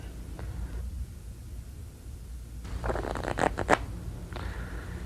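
Crisp, papery riffling of a shaved deck of playing cards in quick bursts, a soft flutter rising to a fast clattering cascade before settling into quiet handling.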